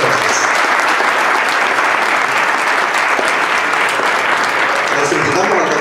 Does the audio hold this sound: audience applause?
yes